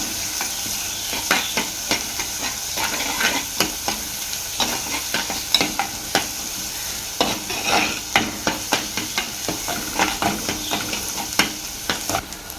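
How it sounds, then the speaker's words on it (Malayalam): Chopped green chillies sauté in a hot pan, a continuous close sizzle punctuated by repeated scraping and tapping stirring strokes of a spoon, with no talking. "നന്നായി വഴറ്റാം."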